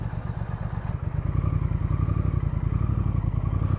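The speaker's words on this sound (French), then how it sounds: "petit essai Triumph Speed Twin, belle moto, digne concurrente de la R90" Triumph Speed Twin motorcycle engine, new and still being run in, idling then revving with a steady throbbing low pulse, close and fairly loud, with some mechanical clatter.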